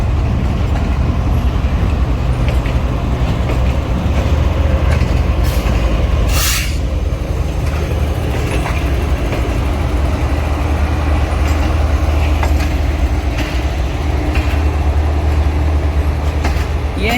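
Passenger train with new AC standard coaches of the Pak Business Express rolls through Lahore Junction, giving a loud continuous rumble with a brief high squeal partway through.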